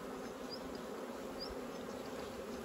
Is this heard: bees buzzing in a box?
yes